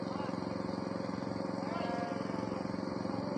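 Quick Capung mini tractor with a Honda GX200 engine running during harrowing, a steady close putter with a regular pulsing rhythm that continues throughout while a voice talks over it.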